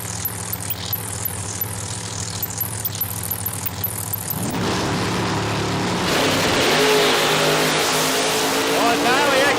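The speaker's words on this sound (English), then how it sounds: "A little bit of a chase here on the dragster." Nitro funny car dragsters race at Palmyra Dragway, a steady engine drone giving way midway to a louder roaring, rising run, with an announcer commentating throughout.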